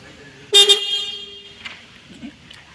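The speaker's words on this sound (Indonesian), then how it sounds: "Klakson menyala sehingga masih normal" A car horn sounds during a horn circuit jumper test, giving one loud, close, double-pulsed honk of under a second that fades into quiet room noise.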